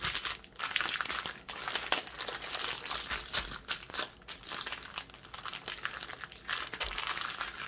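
A diamond painting canvas sheet is rolled back up, giving steady close crinkling and crackling of stiff sheet material with brief pauses, no voice.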